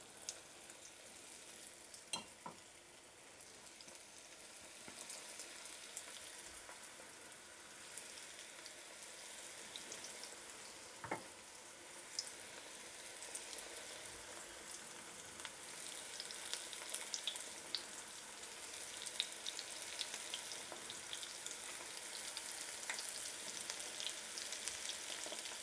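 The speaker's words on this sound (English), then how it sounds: "we're going to be throwing in our onion rings into the hot oil" Onion rings fry in hot oil with a steady, dense crackling sizzle that holds for about half a minute, close and moderately loud, with occasional pops and no talking.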